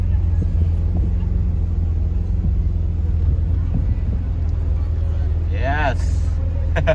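A Ferrari F50 drives through Los Angeles with a steady low engine rumble throughout, while people talk over it.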